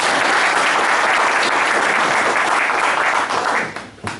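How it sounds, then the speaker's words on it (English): Audience at a club meeting celebrating a high school student bursts into loud, dense applause that holds steady, then tapers off to scattered claps near the end. "So we'll just clap first."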